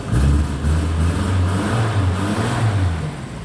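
A cold 1968 MG 1300 engine on choke runs close and loud, revving in a steady, throbbing drone with slight rises and dips and no talking over it.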